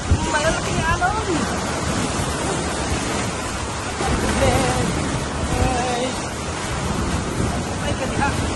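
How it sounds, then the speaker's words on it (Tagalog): Strong ocean waves surging on the beach at Entalula Island, El Nido, Palawan, a constant loud roar of surf mixed with wind buffeting the microphone. "Grabe, lakas ng alon guys."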